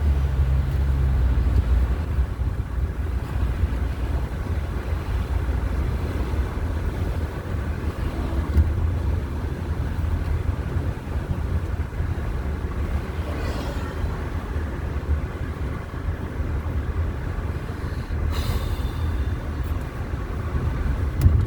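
A car driving steadily, heard from inside as a constant low road and engine rumble with some wind noise, moderately loud and unbroken throughout.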